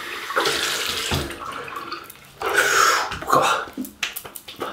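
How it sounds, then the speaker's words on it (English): Cold water gushes steadily from a tap into a sink for a rinse, a close, continuous splashing stream that shifts in tone as hands move through the flow. "Right, we'll go for a cold water rinse."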